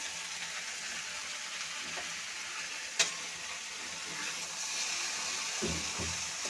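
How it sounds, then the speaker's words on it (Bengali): Cumin and coriander powder frying in oil in a pan for an okra and potato curry, a continuous close sizzle with a spatula stirring, one sharp clink and a couple of low thumps near the end. "ভালো করে মিশিয়ে একটু ভাজা ভাজা করে নেব"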